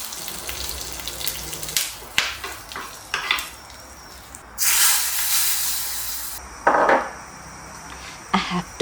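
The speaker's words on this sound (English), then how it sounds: "I make the tadka for the rasam with a teaspoon of coconut oil, half a teaspoon of mustard seeds, half a teaspoon of jeera," Mustard seeds, jeera and curry leaves hit hot coconut oil for a rasam tadka, giving bursts of loud hissing and crackling sizzle between quieter stirring moments and small pops.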